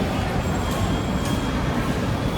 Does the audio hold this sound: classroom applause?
no